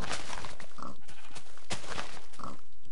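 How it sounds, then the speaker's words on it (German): Sheep in the video game Minecraft bleat a couple of times over loud, dense game audio, the calls rising briefly out of a continuous wash of noise. "hier haben wir noch gleich noch ein Schaf. Ein kleines Schäfchen."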